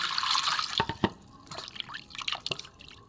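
Rinse water poured off soaked paneer while washing it in the kitchen: a few close splashes and irregular drips over about three seconds, with no talking.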